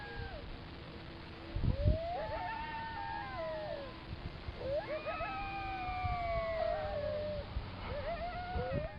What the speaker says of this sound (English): you can hear the coyotes going absolutely crazy